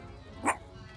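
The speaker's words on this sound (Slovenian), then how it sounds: "Kaj lajaš?" A single sharp dog bark rings out near the microphone, one short loud yelp standing alone above a quiet background.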